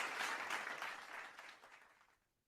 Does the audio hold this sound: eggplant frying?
no